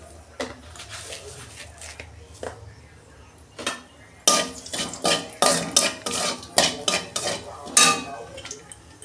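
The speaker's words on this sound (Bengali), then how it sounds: "তেলে আমি 5 ফোড়ন দিচ্ছি।" Five-spice tempering fries in mustard oil and is stirred in a pan. Scattered clinks come first, then a close burst of quick, rhythmic scraping and clattering strokes.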